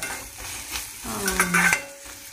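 Food fries in hot oil in a pan while a utensil stirs and scrapes against the metal, sizzling close and loud with a few clinks, no voices.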